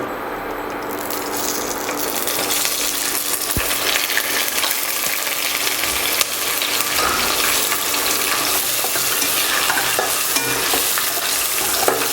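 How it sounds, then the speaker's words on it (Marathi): Whole spices drop into hot oil for a chicken dum biryani, setting off a loud, continuous sizzle with crackling pops and the scrape of stirring, close up and without talk. "आता आपलं तेल तापलेलं आहे तर याच्यामध्ये आपण खडा मसाला घालून घेऊयात"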